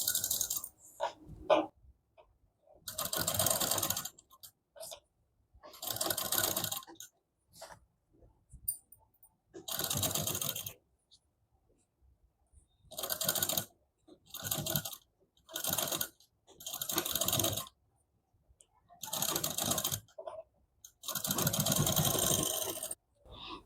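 Sewing machine stitching a double katori blouse, size 32, in repeated short bursts of rapid mechanical running separated by pauses, close and clear, with no talk.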